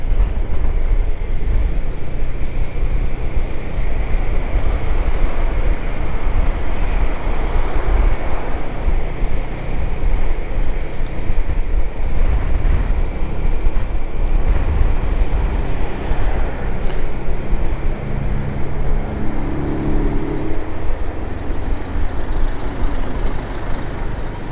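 Riding a brand-new Zontes 350E motorcycle: a steady engine drone and heavy wind rush roar continuously, loud and close, with no talk over it.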